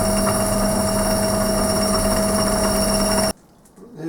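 Metal lathe cutting with a high-speed steel tool in a home shop, a loud steady machine hum with sustained whining tones that cuts off abruptly near the end, leaving a brief quiet gap before some faint handling noise.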